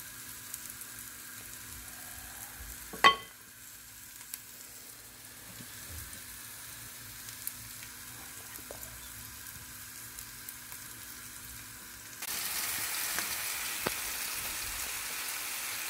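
Onions and handi kebabs frying in a pan, a faint low sizzle with one sharp knock early on, then a louder, brighter hiss of frying for the last few seconds, no one speaking.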